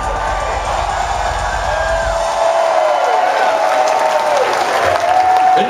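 A large crowd at a 2019 concert at Starland Ballroom, New Jersey, cheers and applauds loudly, with whoops and shouts rising over steady clapping, all continuous and close, while a faint pitched tone hangs in the background.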